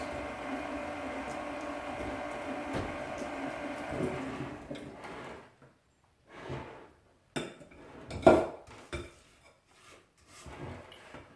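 A utensil stirs cookie dry ingredients with salt and cinnamon in a bowl: a steady scraping rustle at first, then sparse clinks and taps against the bowl, close and fairly quiet.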